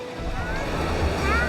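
Surf washes steadily onto Great Bay Beach in St Maarten, a continuous broadband wash with wind buffeting the microphone and a faint voice mixed into the background.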